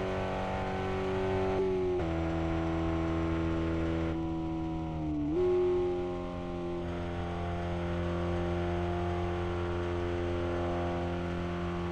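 Car in the Revhead driving game idles along slowly, a steady low engine drone with a couple of small pitch dips as the revs ease and pick up again.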